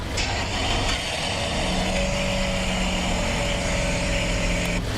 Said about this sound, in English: Now a car that's missing a catalytic converter sounds a little different.